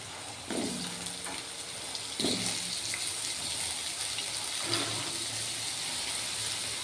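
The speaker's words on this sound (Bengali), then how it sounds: "তেলটা গরম হয়ে গেছে, আলুটা দিয়ে দিচ্ছি আস্তে আস্তে" Potato pieces hit hot oil in a pan, each addition setting off a sudden sizzle that settles into a steady, moderate frying hiss, with three separate drops in all.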